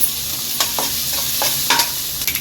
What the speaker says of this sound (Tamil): இப்போ இதை நல்லா வதக்கலாம்